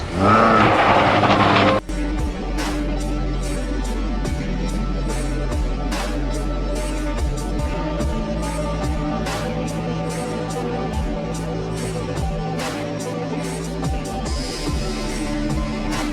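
Toyota Corolla AE100 driven hard through corners, its engine droning loud and steady throughout after a brief louder burst at the start, with no one speaking.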